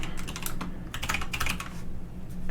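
Steady clatter of computer keyboard typing, a rapid run of close, crisp keystrokes filling the whole moment with no pauses, recorded nearby in a quiet room.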